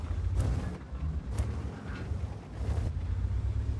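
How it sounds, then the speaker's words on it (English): Tank cannons firing high-explosive shells in World of Tanks, heard as a run of heavy booming blasts with low rumbling tails, loud and close, repeating at roughly one-second intervals. "He's shooting high explosive now."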